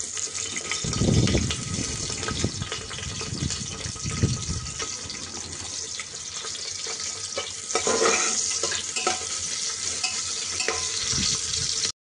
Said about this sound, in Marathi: तेल चांगलं तापल्यानंतर त्यात पहिल्यांदा कांदा भाजून घ्यायचा आहे.